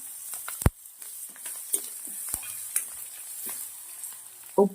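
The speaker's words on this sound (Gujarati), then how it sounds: "હવે આપણે થોડી કોબીજ નાખી દઈશું. ડુંગળી અને મરચાં નાખીશું થોડા" Cabbage, onion and chillies hitting hot oil in a pan, a steady soft sizzle with a few sharp clatters and stirring scrapes, close and alone with no talking.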